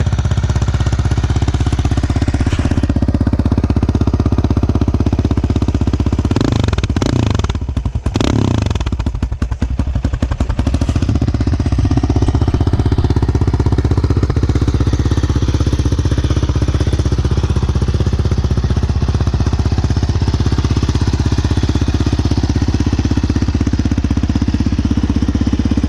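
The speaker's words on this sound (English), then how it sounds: "It's, you know, that 4-stroke noise" A Yamaha Raptor 700R four-stroke ATV engine runs close by with a loud, steady, deep throb, and a brief rev and clatter break in partway through.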